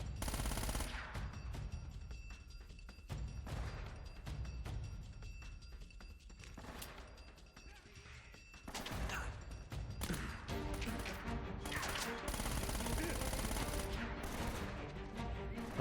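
Gunfire in Uncharted: Drake's Fortune: rapid automatic bursts and single shots crack over a dense, loud game soundscape with crashes and thuds, nearly continuous for about sixteen seconds.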